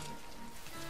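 Steady hiss of rain falling in a city at night in the video game Rain, soft and continuous in a very brief snippet.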